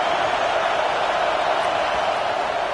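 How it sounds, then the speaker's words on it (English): Stadium crowd in an NCAA college football video game roars on third down, a dense, loud, steady wash of crowd noise with no breaks. "The Tide crowd rolling noise down onto Saban Field on third down."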